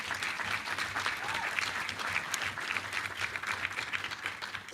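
Sustained, steady applause from an audience at a professorial inauguration for a Faculty of Humanities professor, dense and even with no voices over it.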